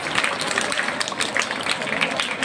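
Enthusiastic audience applause for the president of a Seerat speech programme, a dense, steady wash of many hands clapping at close to moderate distance, sustained without pause throughout.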